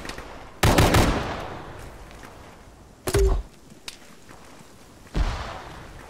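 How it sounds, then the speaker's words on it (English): Automatic gunfire in the military shooter Arma during a ShackTac squad session: three separate loud, close bursts, a long rattling one first, then a short burst and a final crack, with steady background ambience between. "Taking fire south."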